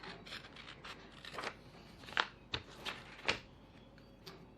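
Scissors snip through bag pattern material while sewing a bowler bag, giving a handful of soft, uneven cuts with a few sharper, louder clips in between, close by and quiet with no talking.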